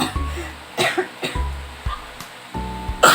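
Repeated coughing from an itchy throat: several harsh, close bursts in uneven clusters, each cough short and forceful, with brief throaty pauses between them.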